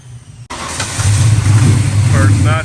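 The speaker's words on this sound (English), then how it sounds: "First nitrous hit here." An SN95 Mustang on a nitrous hit roars in suddenly after a brief quiet start, its engine loud and close as it accelerates hard, and a voice speaks briefly over it near the end.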